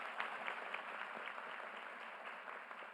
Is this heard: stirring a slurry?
no